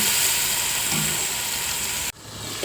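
Tomatoes sautéing in a pan for a rohu fish curry, a steady close hiss and sizzle that cuts off abruptly near the end before resuming more quietly.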